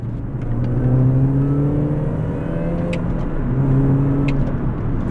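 A Mini Cooper hot hatch pulls hard under acceleration, its engine note rising through the revs in two sweeping pulls with a brief shift between, loud and close with a steady road rumble beneath.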